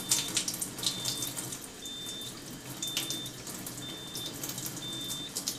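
Water runs steadily from an Enagic SD501 Kangen water machine set to acidic beauty water at pH 5.5, a continuous close hiss with soft periodic electronic beeps over it.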